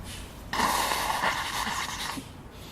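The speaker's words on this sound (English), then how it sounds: "you want to blow your nose" A single forceful nose blow during jala neti nasal cleansing with warm water, a sharp breathy rush lasting about a second and a half, close and fairly quiet.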